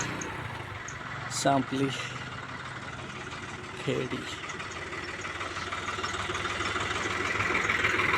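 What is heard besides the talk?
tractor engine running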